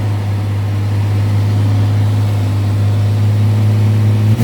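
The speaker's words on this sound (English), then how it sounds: "It's idling high now." A 1990 Jeep Cherokee XJ with the Renix 4.0 engine and swapped Volvo injectors runs at a steady, elevated idle, a loud, constant drone recorded close by with no other sounds.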